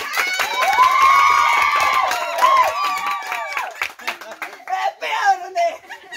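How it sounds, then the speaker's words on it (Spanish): Audience clapping and cheering for contestant number 2 at a lively games event, with children shouting and a voice carrying over the crowd. "Aplauso para el número 2."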